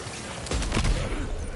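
A single gunshot in the video game Death Stranding 2, a short sharp burst with a low, booming tail, heard alone amid quiet game ambience.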